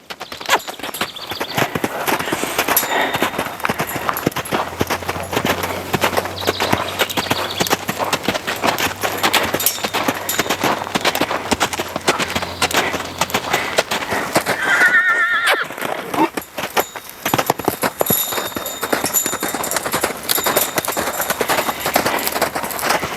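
A horse loping around a round pen, its hooves clip-clopping in a steady rhythm with loud whinnies, the footfalls close and continuous throughout.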